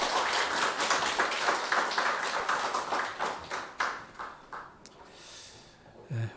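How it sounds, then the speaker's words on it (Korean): Church congregation clapping in praise to God during a Sunday worship service, a brisk, rhythmic round of many hands that thins out and fades away toward the end, followed by a brief low thump. "우리 하나님께 감사와 영광의 박수 올려드리겠습니다."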